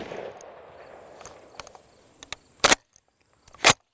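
FAL rifle fired outdoors, two sharp reports a second apart following faint scattered clicks and handling noise, with no talking.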